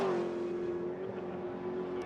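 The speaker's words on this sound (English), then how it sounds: "Absolutely cracking sound from that big TR8, the V8 engine in that." A Triumph TR8 V8 race car in a classic sports and saloons circuit race roars past at high revs, a steady, strong engine note that drifts slightly lower as it goes by, loud and close with no talk over it.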